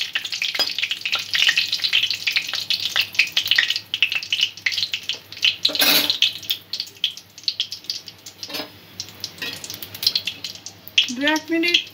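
Whole spices sizzling and crackling in hot oil in a pan for chicken bhorta, a continuous bright frying hiss with stirring scrapes and a brief utensil clink, close up.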